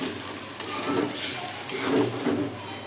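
Stuffed brinjal, vegetarian masala-filled eggplant, sizzles steadily in an oiled pan while a spatula stirs and scrapes it, with occasional louder knocks against the pan, close and continuous.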